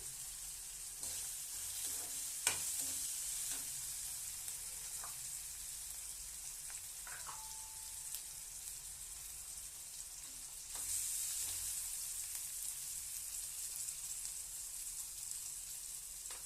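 Green chillies and a bay leaf frying in a pan of cashew and vegetable gravy for a ridge gourd curry, giving a steady soft sizzle with a faint clink early on and a slight swell in bubbling toward the end.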